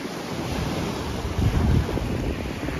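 Ocean surf washing onto Puek Tian Beach in Petchaburi, Thailand, a steady broadband rush of waves heavily buffeted by wind noise on the microphone, with a slightly stronger swell midway.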